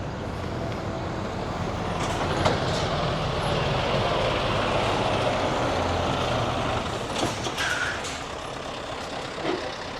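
A heavy truck carrying an 18-tonne unit rumbles slowly around a tight 90-degree bend with an escort vehicle, its engine a continuous loud drone with brief hisses and clanks.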